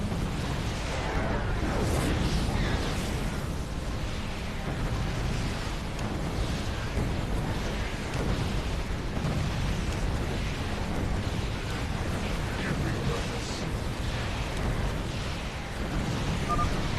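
Explosions tear through the power core in the StarCraft video game, a dense, continuous rumble of blasts and bursts rolling on at steady loudness, with game voices faintly mixed in.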